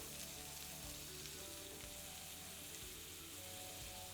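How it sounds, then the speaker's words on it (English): Butter sizzles steadily in a frying pan for a toasted grilled cheese, a dense, continuous crackle that fills the whole stretch without pause and with no voices over it. "I'm going to add butter to the pan, just because I want that toasty butteriness going underneath my toasted cheeses"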